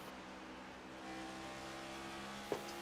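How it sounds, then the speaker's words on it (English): Engine of a race car in a sim racing game at Rockingham, steady revving tones that shift pitch through an upshift, then a quick downshift and braking with a brief sharp blip near the end. "Upshift. And real quickly, just downshifts and brakes."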